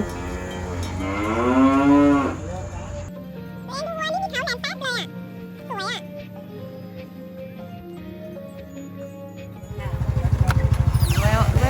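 Cattle by the Mekong River in Nakhon Phanom, Thailand, moo loudly at close range, a long low call followed later by a deeper one, with voices talking in between.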